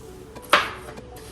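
A knife chops baby bok choy on a cutting board, one sharp, clear knock standing out among a few softer taps, close and with no talk.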